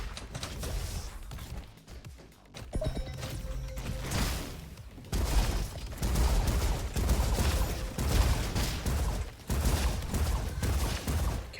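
Repeated gunfire from a weapon in the robot shooter game RoboQuest, a series of heavy thumping shots and mechanical clanks that come in uneven bursts, loud and close, with a short lull early on.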